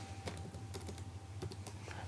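Quiet keystrokes tap on a computer keyboard as a PIN code is entered, a handful of soft irregular clicks over a low electrical hum.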